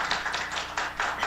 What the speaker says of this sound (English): Join me, please, in giving a round of applause to Chessie